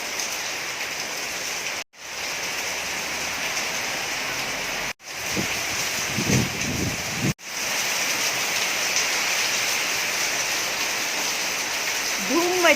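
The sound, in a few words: heavy rain in Mumbai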